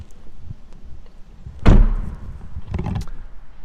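The door of a 2019 BMW i8 Roadster shuts with a single solid, close thunk, followed by a short rattle of the latch settling, against quiet background.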